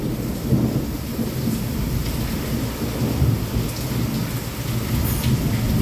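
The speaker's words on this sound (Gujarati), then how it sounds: "આજે તમને વરસાદ વીજળી એના ચમકારા આજે બતાવ્યા છે આપ જો એને ગર્જના" Heavy downpour with rolling thunder during a night thunderstorm in Wankaner, a dense steady roar of rain on surfaces under deep rumbling swells, close and loud with no voices.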